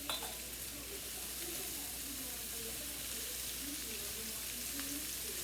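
Four medium onions frying in a crowded pan give a steady, close sizzle that runs unbroken under faint background sounds.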